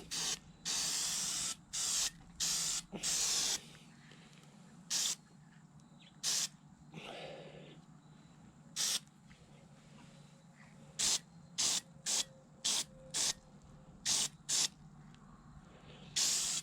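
Aerosol spray can laying a coat onto a Freewing MiG-29 model aircraft, heard as a series of short, close hissing bursts, a few longer ones early on, then repeated quick spurts separated by quiet pauses.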